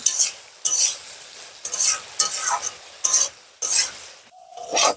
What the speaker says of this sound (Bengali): লবণ হলুদ দিয়ে এবার ভালোভাবে ভেজে নেব